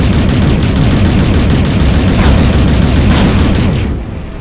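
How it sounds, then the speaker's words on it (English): Rapid gunfire from a video game, Space Salvager, as a player shoots blue objects in a bandit zone; dense, continuous shots fill the whole stretch at steady loudness before tapering off slightly at the end. "I'm gonna shoot it."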